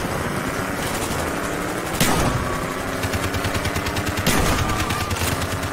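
Dense, continuous automatic gunfire in Call of Duty Black Ops, rapid close bursts layered over one another with heavier impacts at intervals, loud throughout with no voices.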